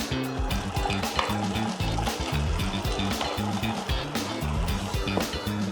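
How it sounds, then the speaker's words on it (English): Bolognese sauce sizzles and crackles steadily in a hot oiled pan, a dense close frying hiss with occasional stirring clatter. "let's put some bolognese sauce into the pan."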